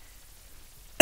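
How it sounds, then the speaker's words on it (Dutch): One sharp, loud cough bursts out at the very end after near silence. "Ik ben nog steeds aan het hoesten, sorry daarvoor."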